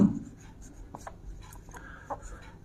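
Chalk or marker writing on a board during a chemistry lesson, heard as short faint scratchy strokes in quick bursts, alone and close.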